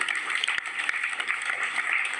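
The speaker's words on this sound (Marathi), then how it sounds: "टाळ्या वाजवा." A crowd claps together in a dense, steady burst of applause at a kirtan gathering, lasting a couple of seconds.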